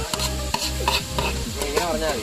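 Onions being stirred and sautéed in a large uruli pot, with a steady sizzle and repeated scraping strokes of the spoon against the metal, close and fairly loud, no talk.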